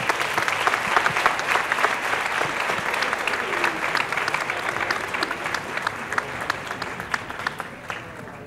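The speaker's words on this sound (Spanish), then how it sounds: "Un fuerte aplauso por todo ello." Applause from an audience at a local award ceremony in Bolaños de Calatrava, with dense, steady clapping that holds for the full stretch and tapers slightly toward the end.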